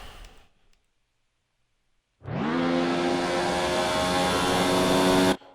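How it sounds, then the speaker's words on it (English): An F1 car engine in the F1 2019 racing game screams at high revs after a near-silent pause, a loud sustained whine that holds steady for a few seconds, then cuts off abruptly. "Yeah, that's an engine. That is a blowout."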